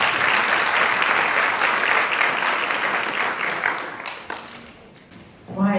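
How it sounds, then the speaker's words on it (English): Sustained applause from a large summit audience, steady and loud, fading toward the end before a brief louder burst. "Ladies and gentlemen, please a round of applause."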